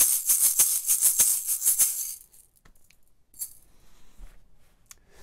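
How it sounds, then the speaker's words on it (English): A soda bottle used as a shaker rattles in a quick, steady rhythmic shuffle for about two seconds, then stops, leaving a few scattered faint clicks and rattles. "And this soda bottle was a shaker."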